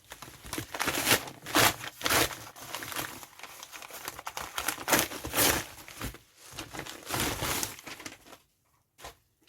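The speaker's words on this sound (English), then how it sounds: "As always, cue lots of rustling." Crinkly packaging of a crochet subscription box rustles and crumples in repeated bursts close by, papery and plastic handling sounds continuing before a brief quiet at the end.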